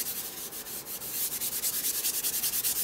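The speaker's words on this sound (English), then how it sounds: "I'm going to use the same baby wipe" A baby wipe is rubbed quickly over paper in rapid back-and-forth strokes, a close, dry, rhythmic scrubbing with regular swishes and no talking.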